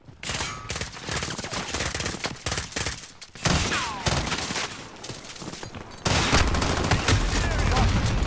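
Gunfire in the video game Call of Duty: Modern Warfare multiplayer, with dense bursts of rapid shots in several loud stretches and a heavier volley near the end.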